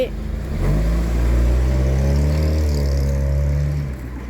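A Chevrolet Cruze (2016–2018 model) engine revs up as the gas pedal is pressed, a loud, close, steady droning hum that rises slightly in pitch and holds for several seconds before easing off.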